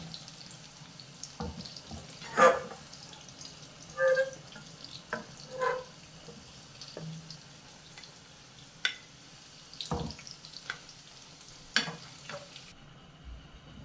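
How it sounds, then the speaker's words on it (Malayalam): Chicken sausage pieces frying in hot oil, a soft steady sizzle with occasional clinks and scrapes of a slotted spoon lifting them out, close but quiet. "പച്ചമണം ഒന്ന് മാറുന്നവരെ ഒന്ന് എണ്ണയിലിട്ടൊന്ന് വറുത്ത് കോരിയെടുത്താൽ മതി."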